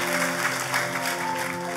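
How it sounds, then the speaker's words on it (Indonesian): A church congregation applauds, dense continuous clapping from a large crowd filling a hall over a faint sustained musical tone. "Kita kasih tepuk tangan yang paling meriah buat Tuhan kita"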